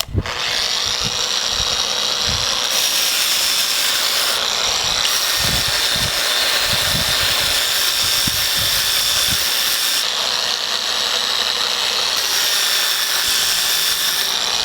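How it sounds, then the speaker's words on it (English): A power sander whines steadily throughout as it sands a windsurfing sail batten, its pitch shifting slightly as pressure changes, with low knocks and bumps underneath. "Starting sanding with batten 6."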